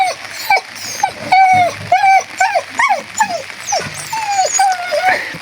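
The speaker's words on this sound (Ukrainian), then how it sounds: "Песик виглядає нову худобу. Радується." A dog whimpers and yips in repeated high, whining cries at a newly arrived young mare, close by, with short pauses between them and some faint voices in the background.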